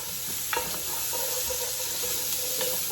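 Onions sizzle in a pot for a ginger carrot soup while a utensil stirs them, with a steady frying hiss and a few scraping strokes, close and fairly quiet.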